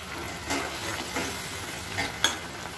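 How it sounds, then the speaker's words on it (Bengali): Small fish in a mustard paste sauce bubble and sizzle softly in a pan, a steady low simmer with a few faint utensil clinks and one sharper tap, no voices. "দেখো, মাছগুলো আমি দিয়ে দিলাম, দিয়ে একটু ফোটাবো।"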